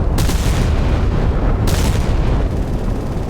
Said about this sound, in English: Big guns have started firing again.